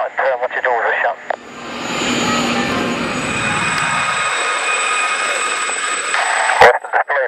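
A Gazelle helicopter's turbine engine runs at an air festival, a loud steady roar with a high whine that builds and holds throughout, a voice talking briefly at the start and a sharp knock near the end.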